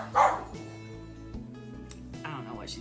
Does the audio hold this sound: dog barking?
yes